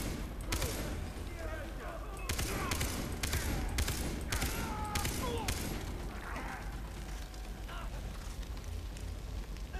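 Rapid bursts of gunfire crackle repeatedly in Far Cry 3, some in quick volleys, mixed with a busy game soundscape and voices talking throughout.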